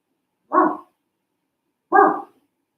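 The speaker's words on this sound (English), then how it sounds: "that's a dog barking" A dog barks twice, close and loud, with a pause of over a second between the two sharp barks.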